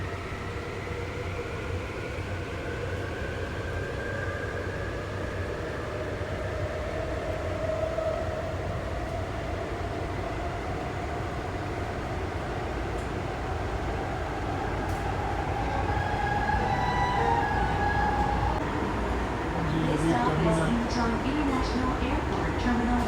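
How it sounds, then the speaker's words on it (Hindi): An airport express train runs from Seoul Station toward Incheon Airport, with a steady interior rumble and rising, whining motor tones as it travels at speed, and a quiet onboard announcement near the end. "कितना फास्ट चलते हैं यहाँ पे ट्रेन।"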